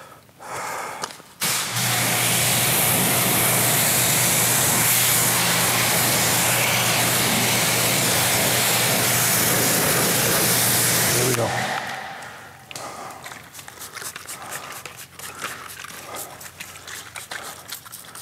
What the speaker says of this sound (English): We're gonna rinse this panel off.